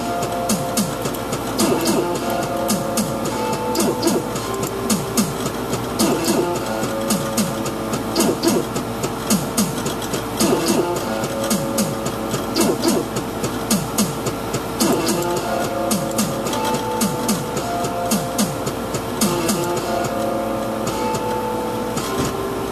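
A programmed drum beat with a distortion setting plays from a Casio LK100 keyboard, a steady loud electronic rhythm of dense, repeating hits running continuously with no voices.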